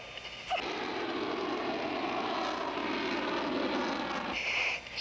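A CF-18 Hornet fighter jet roars overhead during a flight display, a broad, sustained engine rush heard from a distance that swells and holds before dropping away.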